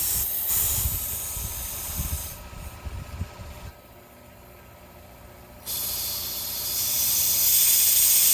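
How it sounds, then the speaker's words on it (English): Brake cleaner hisses from an aerosol can onto an electrical connector in a 2019 Chevy Camaro engine bay, with loud close bursts of spray separated by a brief quiet gap, then a long sustained blast. "We'll get some brake clean and make sure it's clean, because I don't want any debris in that connector down there."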